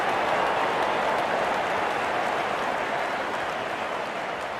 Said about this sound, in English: gets a grand applause